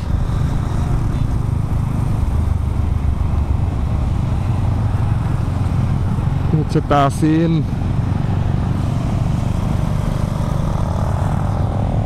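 A group of GPX Demon motorcycles rides together on the 300 Feet road, a continuous loud engine drone with a brief rising rev burst midway, and a voice speaking briefly.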